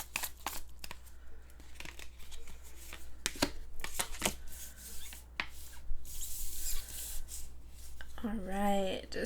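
Tarot cards are shuffled close by with soft rubbing, riffling slides and taps, followed by a brief voice at the end.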